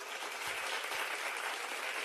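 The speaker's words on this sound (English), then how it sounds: "that's why I'm clapping." Hand clapping is heard as a steady, dense burst of applause-like noise that stays even for about two seconds, with no voices over it.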